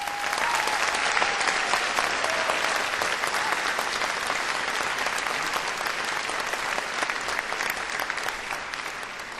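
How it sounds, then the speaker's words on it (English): Graduation ceremony audience applauding, a dense, sustained roar of many hands clapping throughout, even and full without a break. "join me in thanking them for everything they've done with a round of applause"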